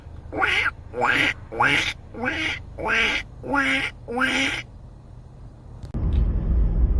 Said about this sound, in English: I've not seen any redhead ducks before.